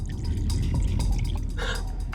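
Water trickles and drips as it is poured into a glass for drinking in a restaurant, close and steady for about two seconds over a low background hum.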